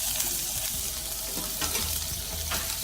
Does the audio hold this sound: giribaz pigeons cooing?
no